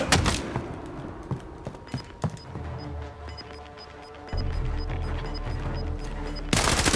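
Gunfire in the Call of Duty Warzone video game: scattered sharp shots and short bursts, fairly close, followed by a low steady hum and a sudden loud burst at the end.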